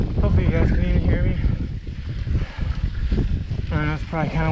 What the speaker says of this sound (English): I know it's probably kind of windy. Hopefully that doesn't affect it too bad.